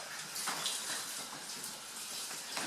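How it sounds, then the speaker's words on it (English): Saffron water pours steadily into a paella pan of rice and cooked prawns, a continuous close splashing gush lasting a few seconds with no talk. "And then we're going to add the saffron water."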